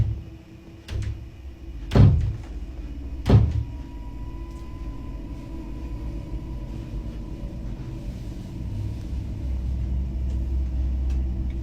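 A door is banged on indoors with a few heavy, separate thuds, one early and two louder ones close together, then a low steady rumble fills the rest.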